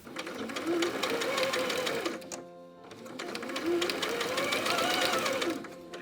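A sewing machine runs close up, stitching a bias binding seam on fabric in two steady, rapid whirring bursts separated by a short pause.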